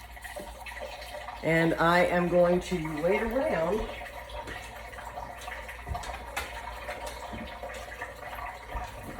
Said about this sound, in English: Run some water in that bowl